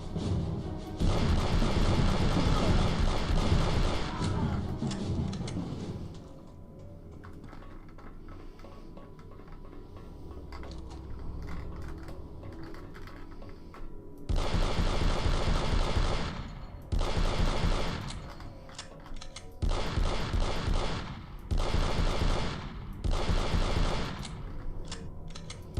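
Heavy automatic gunfire in the shooter game Aliens vs. Predator 2, marine campaign: loud sustained bursts of rapid shots, then a stretch of quieter rumble and clatter, followed by several more separate bursts separated by short pauses.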